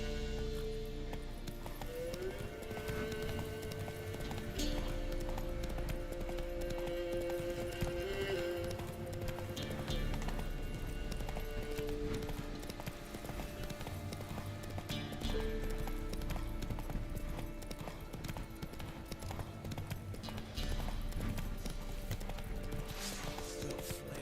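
Roach, the horse in The Witcher 3 video game, trots with a steady, continuous clip-clop of hooves that stays close and prominent throughout, over a busy game soundscape.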